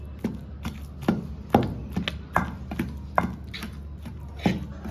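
Gongura leaves and green chillies pounded in a stone mortar, steady repeated thuds about twice a second, close and fairly loud with no talk.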